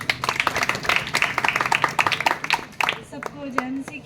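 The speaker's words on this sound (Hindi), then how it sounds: "आइए परमेश्वर का धन्यवाद करें ताली बजा के।" A church congregation at a Sunday gospel meeting claps in thanks to God. The clapping is loud and irregular at first and thins out after about three seconds, with voices audible throughout.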